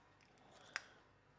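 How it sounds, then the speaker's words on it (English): Chicken scissors in a home kitchen during meal prep, giving a single quiet, crisp snip near the middle of an otherwise hushed moment. "And my chicken scissors."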